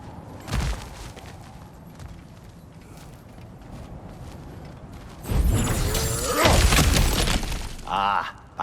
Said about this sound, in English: back to smashing through things for fun and profit